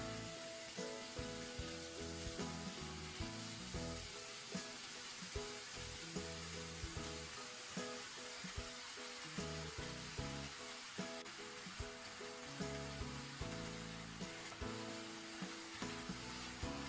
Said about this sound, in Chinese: 一直炒到苹果已经有一些变色了，再根据个人的口味加入适量的白糖， 再翻炒均匀